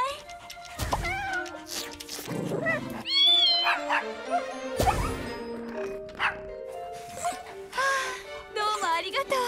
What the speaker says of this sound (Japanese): あと子猫もお願い。